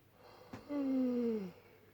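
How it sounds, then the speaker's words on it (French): A single long human yawn rises to a breathy, voiced peak and then trails down in pitch over about a second, close and fairly quiet, with no other sounds around it. "Ce bâillement résume"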